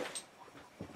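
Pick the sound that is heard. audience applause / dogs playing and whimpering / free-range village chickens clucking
dogs playing and whimpering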